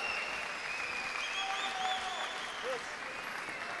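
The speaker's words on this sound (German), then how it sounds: "Herzlichen Applaus auch an Slavo Polovic" A boxing crowd applauds after a bout, a continuous, even patter of clapping at middle distance, with scattered whistles and a faint murmur of voices underneath.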